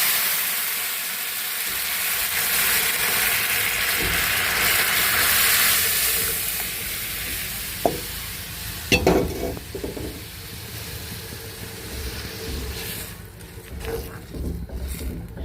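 Lentils (dal) cooking in a pot with cumin, a broad hissing sizzle that gradually fades, then a few sharp clanks of stirring and bubbling toward the end, close and untalked over.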